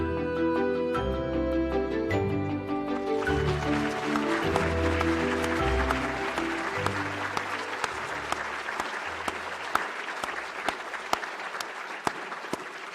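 New members being applauded at the 2022 NAM annual meeting: sustained, loud clapping from a large seated audience fills the hall after a short stretch of music, continuing steadily without talk.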